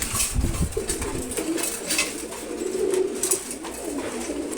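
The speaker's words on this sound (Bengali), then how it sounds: "এগুলো সবগুলো মাদি কবুতর" Female pigeons, including khaki and giribaz breeds, cooing in their pen at a pigeon farm, with soft overlapping throaty coos rolling on steadily from several nearby birds.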